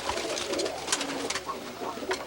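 Pigeons cooing in a loft, several overlapping soft coos close by in a busy, slightly noisy space.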